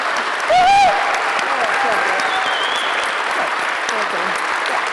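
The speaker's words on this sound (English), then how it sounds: "Let's give a round of applause for" Conference audience at a startup technology event bursts into sustained applause, a dense steady wash of clapping filling the whole stretch, with a brief voice rising near the start.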